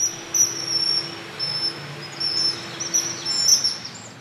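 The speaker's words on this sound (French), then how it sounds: "Ce cri strident et puissant, c'est celui du martin pêcheur, l'un des oiseaux les plus colorés d'Europe." Strident, piercing calls of a common kingfisher near canals and marshes, a few sharp bright whistles repeated over a steady background hiss of insects.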